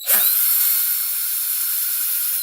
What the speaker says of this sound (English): What I'm doing, I'm drilling that.